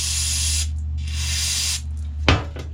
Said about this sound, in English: So spray some carburetor cleaner through